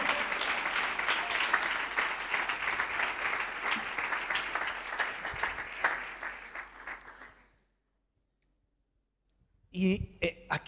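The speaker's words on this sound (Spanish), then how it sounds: "Se ha perdido la oportunidad de dar un aplauso." An audience in a church service applauds in a loud, sustained burst of dense clapping for about seven seconds, then it cuts off into silence before a brief sound returns near the end.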